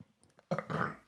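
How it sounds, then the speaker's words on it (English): A person gives one short, close burp after a brief quiet pause, a throaty, guttural gulp of sound. "Oh, I have to burp."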